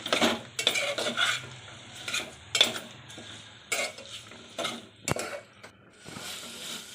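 A spoon scrapes and clanks against a pan as pav bhaji masala is stirred for veg pulao, producing repeated close, loud strokes in an uneven rhythm with a faint sizzle between them.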